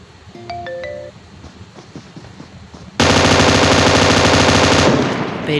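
An M249 machine gun in a shooter video game fires one loud, dense two-second burst, after a quieter stretch of faint game beeps and tones.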